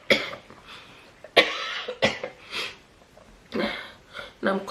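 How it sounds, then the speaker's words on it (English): A woman coughs repeatedly in short, harsh bursts separated by brief pauses, close and loud, with sniffs and throat sounds between them. "You know I'm coughing."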